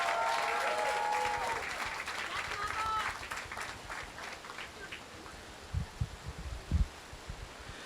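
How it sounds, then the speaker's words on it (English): Audience applause at a university ceremony, a steady wash of many hands clapping that fades gradually, with a few scattered claps near the end. "Let's give him a round of applause."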